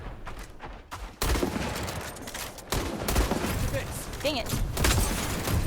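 Gunfire in the video game Highguard, with dense bursts of shots and booms arriving in loud surges that persist under a voice talking over them.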